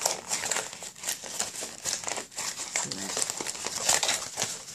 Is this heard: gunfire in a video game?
no